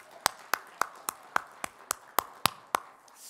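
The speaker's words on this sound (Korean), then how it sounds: "우리 다시 하나님께 영광의 박수 올려드릴까요?" A church congregation at a Friday worship service claps in unison, with about a dozen sharp, evenly spaced claps in a steady rhythm, moderately near.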